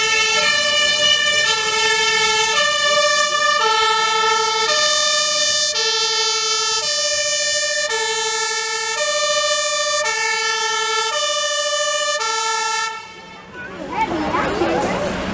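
A fire engine siren sounds loudly and continuously at an accident demonstration during an open day in Hilversum, cycling steadily between two tones for about thirteen seconds before cutting off into brief rumbling noise.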